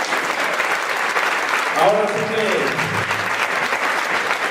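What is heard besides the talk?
church congregation applauding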